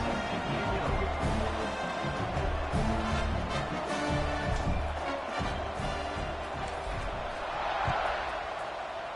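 A large football stadium crowd roars continuously at kickoff, with a dense, loud wash of cheering and noise throughout and a commentator talking over it.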